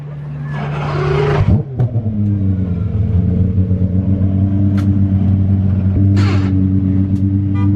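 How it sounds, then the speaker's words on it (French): A car engine idles with a steady low hum, broken by a short mechanical clunk and a rev as the gearbox shifts into reverse; faint background noises follow, at a supercar gathering in Monaco. "Vous entendez le bruit de la vitesse quand il a mis la marche arrière?"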